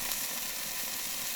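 A rack of lamb sears on a Weber kettle grill, giving off a steady, close, bright sizzle with no other sounds.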